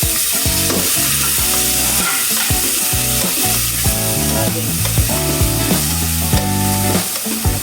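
Tomatoes fry loudly in a pan with garlic and onion for sinigang na baboy, a continuous close sizzle with repeated scraping and stirring strokes throughout.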